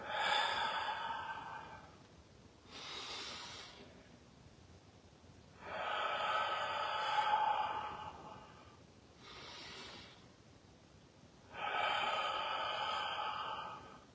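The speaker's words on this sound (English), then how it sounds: "this is the inhale through the nose. We're going to exhale through the mouth" Slow deep breathing during a breathwork session, long airy inhales through the nose alternating with exhales through the mouth, four close breaths in an even rhythm with quiet pauses between them.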